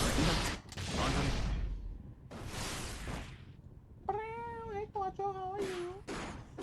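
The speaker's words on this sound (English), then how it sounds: "My little kitty Quattro." A pet cat meows several times in quick succession near the end, close and clear, after earlier stretches of noisy rustling.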